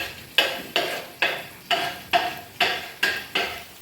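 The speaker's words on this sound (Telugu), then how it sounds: "చాప్తో కట్ చేసేస్తాను" A chopper cuts pumpkin leaves for a Telugu curry in a steady, close rhythm of about nine crisp strokes evenly spaced, with no talk.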